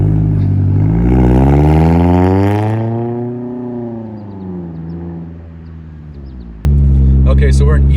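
A Scion tC pulls away from a stop in eco mode, its engine note rising steadily in pitch through the first gear and then settling lower as it eases off. A sudden louder, rougher engine drone cuts in near the end.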